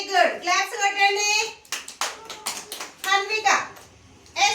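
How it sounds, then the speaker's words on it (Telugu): Children in a classroom clap in a short burst of quick hand claps, surrounded by children's and adult voices speaking before and after. "క్లాప్స్ కొట్టండి"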